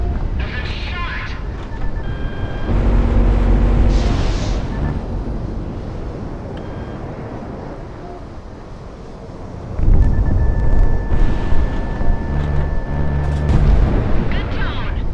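Missile explosions in the combat flight game Project Wingman, heavy rumbling blasts near the start and again around the ten-second mark, with jet roar and steady electronic warning tones between them.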